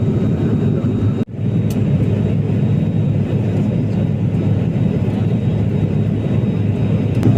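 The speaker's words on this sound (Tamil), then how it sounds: "இப்போ நம்ம க்ரூசிங் ஆல்டிடியூடில் போயிட்டுருக்கோம்" A steady, loud engine drone fills an Alliance Air airliner cabin at cruising altitude on a Bengaluru route. The drone dips only briefly once, with no talk over it.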